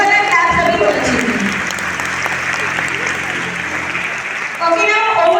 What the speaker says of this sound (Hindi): वो तालियां जो सिखाए थे ना हम, वो वाला क्लास अभी होना चाहिए